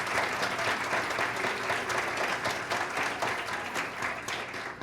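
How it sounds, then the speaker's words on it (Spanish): An audience at a seminar on autism gives a round of applause, continuous moderately loud clapping that tapers slightly near the end. "Un aplauso para ellos."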